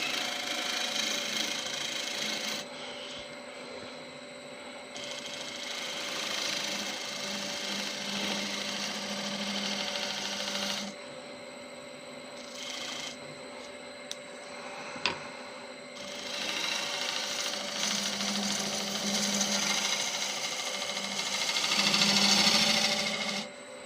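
Holly bowl spinning on a wood lathe during a light finish cut, a steady close whirring drone with a faint scraping texture that swells and eases over about twenty seconds, no talking.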